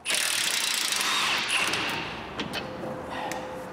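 Impact wrench or power tool loosening a track control arm bolt on a Vauxhall Astra H: a loud, continuous buzzing rattle close by that eases after a couple of seconds into lighter knocks and a faint squeal.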